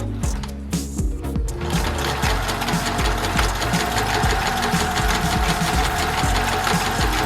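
A sewing machine runs a zigzag stitch along the edge of bedsheet fabric, giving a close, fast and steady mechanical chatter with a rapid regular rhythm and no talking over it.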